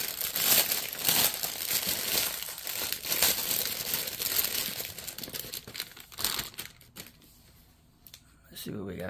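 Plastic packaging from a cross-stitch supply haul crinkles loudly and close, in rapid bursts that thin out near the end, while a voice speaks alongside.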